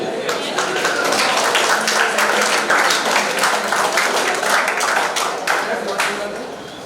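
Sustained applause from an audience at a plant-based diet workshop, a dense, steady clapping of many hands that holds evenly for several seconds and tapers slightly at the end.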